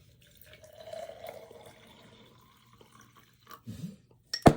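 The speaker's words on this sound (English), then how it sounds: "Then you pour in some hot water, like this." Hot water is poured into a mug holding one or two scoops of JoGo instant coffee, a soft trickle followed by brief clinks and splashes near the end, close and fairly quiet with no talk.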